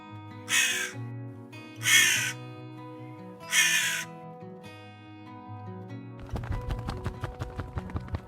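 A crow caws three times, loud and close with even gaps, over a steady musical background; the music then shifts to a rapid clip-clop rhythm.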